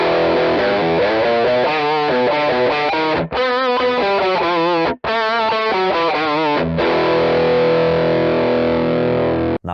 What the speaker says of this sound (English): Now let's hear the second riff recorded with a cable.